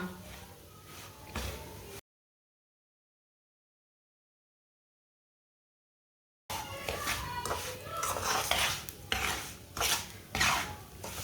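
A spoon stirs semolina in oil for egg halwa in a pan, giving scraping, rasping metal strokes. A short stretch of silence breaks the sound, and then the scraping returns louder and busier.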